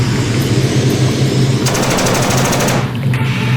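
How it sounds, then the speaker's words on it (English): Gunfire effect in a tense action scene, a rapid burst of shots tearing into wooden crates, heard over a steady low rumbling drone for a couple of seconds. "Bullets tore through crates,"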